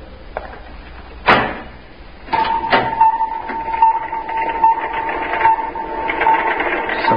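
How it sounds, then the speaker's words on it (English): In an old-time radio science-fiction drama, a door is opened as a sound effect: a sharp knock-like click, then a latch clunk and a heavier thud, followed by a steady mechanical hum with faint background voices. "Open the door."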